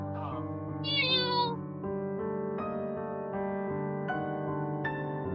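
A cat meows a few times, drawn-out and tonal, over a steady background drone, fairly quiet and close.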